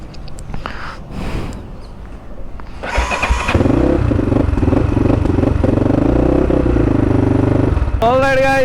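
A motorcycle with a newly fitted headlight, heard first with clatter and handling noise, then its engine starting and settling into a loud, steady close-up running drone, with a voice talking over the start.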